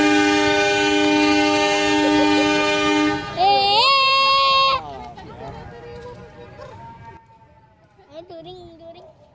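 Passenger train hauled by a CC206 diesel locomotive passes, its horn blaring in a long, loud, sustained chord that shifts pitch before cutting off. A voice then talks over the fading rumble.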